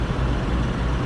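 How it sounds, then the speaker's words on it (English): Low, steady rumble of an idling semi truck left running to cool down, a constant close engine drone with no change across about a second. "he's buttoned up, truck's running, he's cooling her down"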